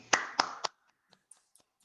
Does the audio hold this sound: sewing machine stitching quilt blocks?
no